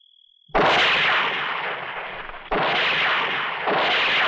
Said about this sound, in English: Why they're shooting?